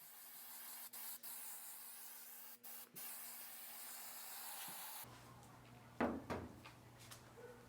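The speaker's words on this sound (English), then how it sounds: "just spray another coat on the back of the headliner" Spray adhesive hisses onto the back of a truck headliner for a 1988-98 Chevy Silverado in several close bursts, with short pauses between, then a few knocks and a softer hiss.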